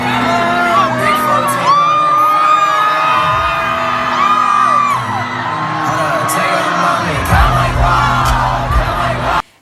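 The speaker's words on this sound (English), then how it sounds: "the crowd in the center just went wild" A concert crowd goes wild in the center mosh pit while a DJ hypes them up at a show, with loud, continuous cheering, whoops and yells that carry through the whole stretch before cutting off abruptly.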